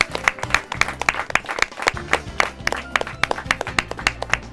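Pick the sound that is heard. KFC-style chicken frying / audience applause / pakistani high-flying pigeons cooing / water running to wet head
audience applause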